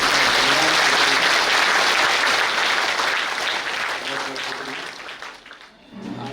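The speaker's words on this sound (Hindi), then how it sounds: "तो हम सभी जोरदार तालियों से गीता देवी जी का धन्यवाद करते हैं" Hearty audience applause thanking Geeta Didi after a class in Amravati, dense clapping loud at first and gradually thinning and fading toward the end.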